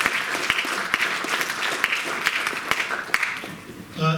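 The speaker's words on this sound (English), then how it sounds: "So give a round of applause to everybody." An audience at a university political science and law salon conversation applauds, a lively spread of clapping with some sharp individual claps standing out, tapering toward the end as a voice begins.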